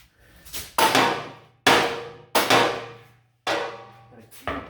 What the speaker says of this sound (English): Give her a few whacks in this region here.